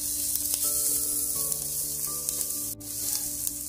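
Calabresa sausage sizzles steadily in a pan with fried onion, a close, continuous frying hiss with faint stirring clinks throughout.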